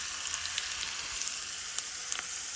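Hot oil sizzling as mustard seeds, cumin, chili and curry leaves are tempered for a khandvi-style dish, a dense steady crackle with scattered sharp pops from the spluttering seeds, close and alone.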